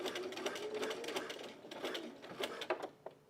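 A sewing machine stitches a bralette in short bursts of rapid, close needle chatter, starting and stopping several times while sewing over thick layers.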